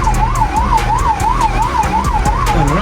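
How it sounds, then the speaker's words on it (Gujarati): An ambulance siren wails loud and close in a steady rising-and-falling cycle over the low rumble of idling engines, stuck in full traffic on a badly damaged highway in heavy rain. "આ જાય છે એમ્બ્યુલન્સ"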